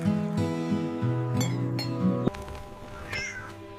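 Cartoon kittens meow several times in a row, clear high-pitched mews with some overlap, heard alone without speech and loud and close.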